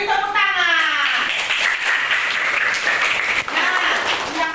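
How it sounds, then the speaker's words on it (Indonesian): A classroom of pupils claps together in brief bursts while a voice carries over the applause. "Beri tepuk tangan."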